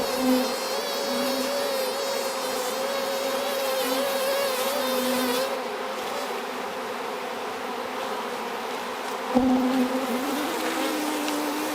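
Honeybees buzzing thickly around an open Flow hive during hive work, a dense continuous hum close by with individual bees whining past, steady and loud throughout with a brief knock near the end.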